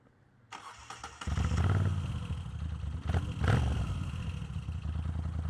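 A Moto Guzzi V7 III motorcycle cranks over and its V-twin engine catches, settling into a loud, close, lumpy idle with steady mechanical clatter.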